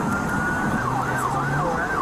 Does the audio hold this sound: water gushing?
no